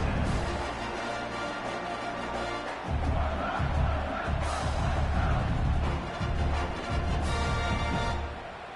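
A stadium crowd in a college football video game roars steadily after a punt return, a dense, loud wall of cheering that swells slightly and holds throughout, with no clear voices standing out.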